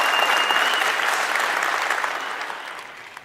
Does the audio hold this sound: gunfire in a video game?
no